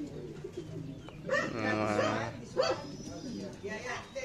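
Racing pigeons in a loft, with close cooing and rustling mixed with a dog barking nearby, under someone talking.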